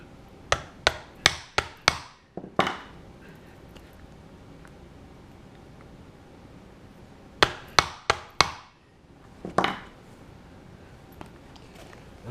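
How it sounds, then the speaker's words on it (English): Leather being punched for stitch holes on a camera and utility bag project: two bursts of sharp, evenly spaced strikes, about five quick hits at first and four more later, close and loud with quiet gaps between. "I'm going to go ahead and punch my hole"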